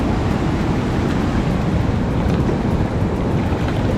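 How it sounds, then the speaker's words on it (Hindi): River water rushes at the confluence of the Alaknanda and Nandakini rivers at Nandprayag, a loud, continuous broadband roar that stays close and steady throughout, with no voices. "तो ये था संगम दोनों नदियों का"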